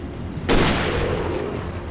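A single sharp hunting rifle gunshot in the video game Alan Wake, loud and close, with a long rumbling tail that fades slowly; no talking over it.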